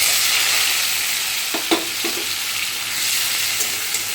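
Sliced onion sizzles in hot oil with a dried red chilli over a raised gas flame, a steady bright crackle punctuated by a few spoon-stirring scrapes, close and alone without voices.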